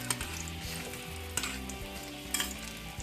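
A Bihari layered tarua fries in a pan with a steady close sizzle, pressed down while it cooks, broken by three sharp scraping stirs or presses; no one speaks.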